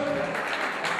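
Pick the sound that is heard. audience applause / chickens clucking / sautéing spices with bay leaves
audience applause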